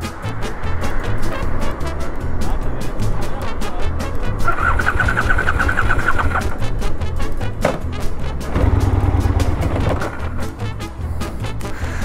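An Aprilia RSV1000R sport motorcycle with a fault runs continuously at a low, rough idle, close and fairly loud, with a brief rise in pitch midway and no voices over it.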